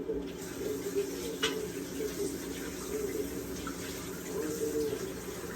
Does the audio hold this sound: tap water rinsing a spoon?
yes